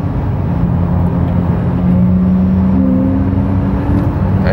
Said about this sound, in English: This car, if you can call it car, accelerates in 3 seconds from 0 to 100 kilometers.